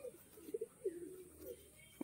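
A pigeon in a loft gives a few distinct low coos, short rolling phrases spaced across the moment, close and fairly clear against quiet background noise.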